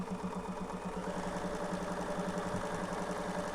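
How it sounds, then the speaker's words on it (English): A Bernina sewing machine runs steadily with a rapid, even mechanical stitching rhythm and a continuous motor hum, close and fairly loud throughout, with no talking. "then we're going to sew again and see if that fixes our problem"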